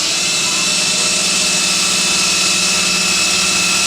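A power tool spins continuously against vehicle trim on a 1997 Toyota Land Cruiser FZJ80 40th Edition under restoration, stripping off old glue with a loud, steady high-pitched whine and buzzing drone up close, with no talk.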